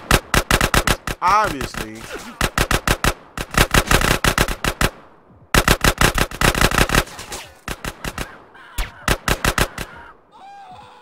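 Rapid bursts of gunfire in the video game GTA San Andreas during a street shootout, loud sharp volleys in repeated clusters with short pauses between, while a voice speaks briefly over them.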